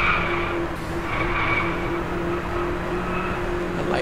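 Car drifting in the racing game Driveclub, with a steady engine drone and sustained, high tire squeal that swells and fades several times across the few seconds, loud and continuous with no talking.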